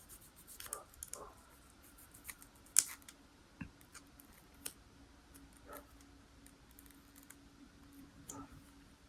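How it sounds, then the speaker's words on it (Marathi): Scissors snip through wool yarn in a quiet room, a series of faint, scattered clicks and short cuts spread irregularly across the moment with a steady low hum beneath. "व्यवस्थित दम्माने कट करायचं आहे, कापून घ्यायचं नाही बघा."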